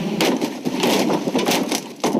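Heavy wooden and steel tram mock-up slamming onto vehicles for King Kong effects, heard as a dense run of cracking, splintering wood crashes and clattering debris, loud and close, one impact piling into the next with no talk.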